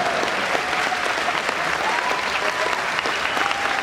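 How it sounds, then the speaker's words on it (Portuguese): Audience at a national podcast conference in Brazil claps steadily for nearly four seconds, a dense, even wash of applause with a few faint voices mixed into the crowd. "E agora finjam que eu chorei e batam palmas pra mim."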